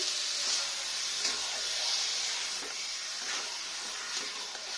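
Marinated mutton sizzling and hissing in a hot pan while being stirred, a steady bright crackle with occasional scraping bursts, close and continuous.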